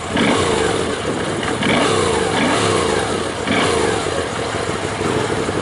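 A 2014 Moto Guzzi V7 II Racer, a production bike with electric start, fires up and revs loudly close by, its engine note rising and falling in several throttle blips with no talk over it.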